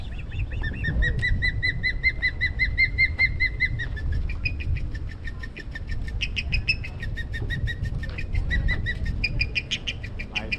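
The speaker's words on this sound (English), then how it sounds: "And there's fish eagle" Fish eagle calls over loud low boat-engine rumble on tannin-stained water with manatees nearby, a series of high repeated yelping notes, several drawn out and others clipped, carrying through the whole stretch.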